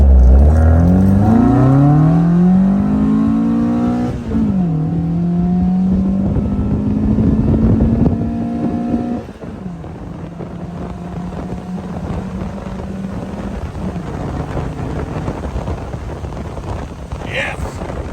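A 1979 Fiat 124 Spider 2000 engine fitted with a performance ignition module revs up, drops back, then settles into a steady warm-up idle, close by with some wind buffeting the microphone.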